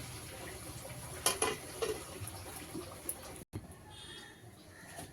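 Vegetarian bakphool (sesbania flower) fritters fry in a covered pan, giving a steady close hiss and crackle with a few sharper pops, then a short break and a quieter, muffled sizzle.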